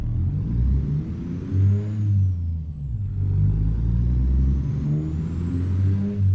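An 850-horsepower logging truck engine hauling a heavy load in American Truck Simulator, a deep, steady drone that rises and falls in revs and stays close and loud throughout.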